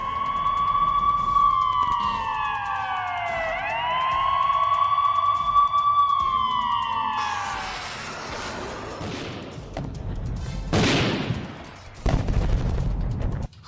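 A wailing wartime air raid siren in Ukraine rises and falls in long sweeping tones, followed by heavy booming blasts and rumbling.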